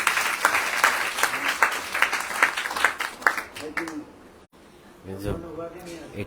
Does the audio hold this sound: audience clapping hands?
yes